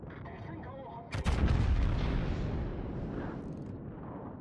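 Heavy naval turret guns fire in a World of Warships battle, a loud booming blast bursting in after a second of engine rumble and trailing into a long rolling decay.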